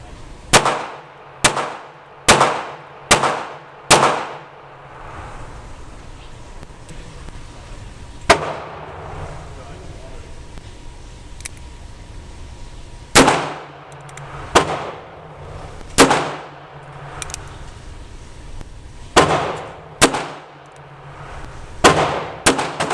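A North American Arms mini revolver fires .22 Magnum rounds at a shooting range: sharp, loud cracks, with a quick string of five early on, then isolated shots and further bursts spaced across the stretch.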